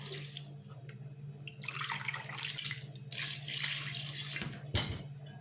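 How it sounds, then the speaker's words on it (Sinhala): Running water, like a tap or pour, flowing steadily over basmati rice soaking in a bowl for chicken biryani, a continuous close splash that swells midway with a low steady hum beneath it. "මේ විදිහට වතුර කප් 2ක් දාලා පැය භාගයක් පෙඟෙන්න තියන්න"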